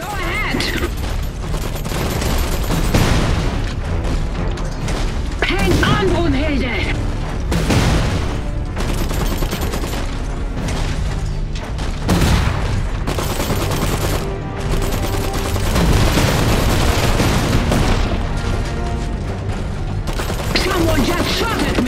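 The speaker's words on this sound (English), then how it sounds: "Someone just shot at me!" Rapid bursts of gunfire and booming explosions from the Iron Harvest video game's Saxony campaign, loud and near-continuous with dense mechanical clatter and short gaps across the whole stretch.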